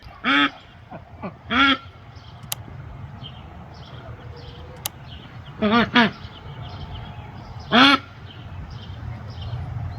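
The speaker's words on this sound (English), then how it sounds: "We have the ducks out here free ranging right now." Free-ranging ducks quack outdoors in short bursts, a few loud harsh calls spaced irregularly over faint background noise and distant bird chirps.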